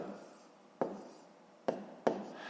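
Pen strokes on paper while numbers are written out for a long-division problem: quiet continuous scratching punctuated by three sharper taps or strokes, close up with no talking.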